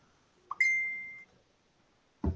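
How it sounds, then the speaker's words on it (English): A phone alert goes off during a backgammon match final, one clean, high electronic beep that rings steadily for under a second and then stops abruptly, followed by a short burst of noise. "Is that your bad cube alert on your phone?"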